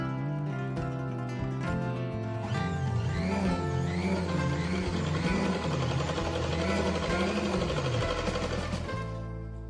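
Electric sewing machine running steadily as it stitches a cutwork lace border onto a plain saree, a continuous close whirring hum with a wavering motor pitch, alone with no talking.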